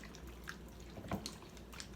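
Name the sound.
stirring carnitas pork with water in pot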